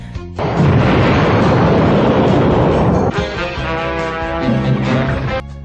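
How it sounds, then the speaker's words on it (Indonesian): A huge explosion from Super Buu self-destructing in Dragon Ball Z bursts in with a sudden loud boom, then a long roaring rumble that shifts into a ringing, tonal wash before cutting off. "Ternyata Super Buu meledakkan dirinya, bahkan ledakannya sampai pada Satan"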